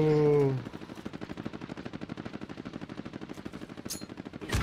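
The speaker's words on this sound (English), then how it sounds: "Stop shooting at me!" Rapid automatic gunfire rattles in a steady close stream during a Call of Duty Modern Warfare multiplayer match, following a brief shout at the start, with a sharp burst near the end.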